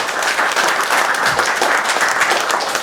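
Steady applause from a gathered audience at a welcome event, many hands clapping densely and evenly at close range for the whole stretch with no speech over it.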